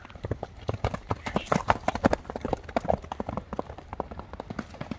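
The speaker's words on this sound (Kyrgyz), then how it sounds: "Мына туугандар, аттын баскан басыгын көрүңүздөр." A horse runs uphill on open ground, its hooves striking in a fast, rhythmic clip-clop that carries on steadily and loudly throughout, with occasional voices underneath.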